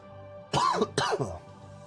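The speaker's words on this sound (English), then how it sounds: "As I cough directly into your ear, sorry." Two quick coughs, close and sharp, with a short pause between them, in an otherwise quiet room.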